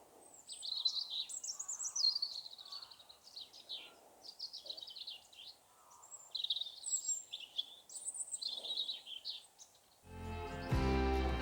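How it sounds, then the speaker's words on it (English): Several birds sing and chirp continuously in trees near Cuckoo Rock and Combshead Tor, in bright, high warbling phrases, fairly faint and distant, before a sudden burst of other noise at the end. "there's quite a few birds in the trees above me, and just listen"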